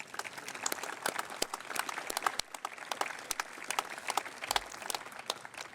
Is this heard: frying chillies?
no